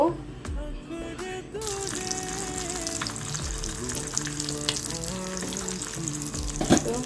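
An egg fries and puffs up in a pan with a constant, close sizzle and bubbling, while a voice and other tonal sounds carry faintly underneath.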